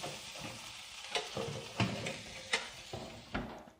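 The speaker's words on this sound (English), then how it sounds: "it's a good idea to stir the potatoes so that they don't stick on the baking tray" Roasting potatoes are stirred on a baking tray: a low hiss of sizzling under several distinct scraping, knocking strokes spaced about a second apart, close and fairly quiet, with no one talking.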